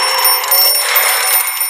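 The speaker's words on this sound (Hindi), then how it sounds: "ये अलार्म से जगाए थे" A cartoon alarm clock from the game Chuchel rings in a loud, continuous, bright metallic trill that lasts throughout, with no voices over it.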